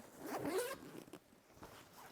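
A zipper is pulled open once in a quick rasping burst, close by, followed by faint rustling of fabric.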